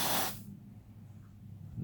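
Freeze spray hisses in a short, loud burst onto a resistor in a faulty Trio W-41U Japanese stereo valve amplifier, then cuts off, leaving a low bench hum.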